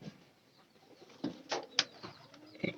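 Pigeons cooing at a pigeon market, a few soft close coos and brief rustles against a quiet background.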